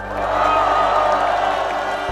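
Large crowd at an outdoor political rally applauding and cheering, a dense steady roar of clapping and voices sustained throughout, loud and close, ending abruptly.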